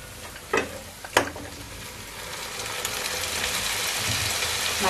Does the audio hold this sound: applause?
no